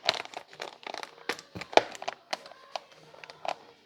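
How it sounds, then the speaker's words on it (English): A plastic bowl with its lid, sealed inside a zip bag, cracks and creaks close up as air is pressed out, giving irregular bursts of crinkly, brittle snaps that come quick and then spaced out. "Y'all hear that bowl trying to show out, it's cracking and creaking?"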